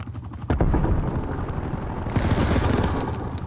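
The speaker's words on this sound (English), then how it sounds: "Oh, I hate those attack helicopters." A loud, close attack helicopter in Call of Duty: Black Ops Cold War thumps and roars amid bursts of rapid gunfire, the noise swelling louder partway through.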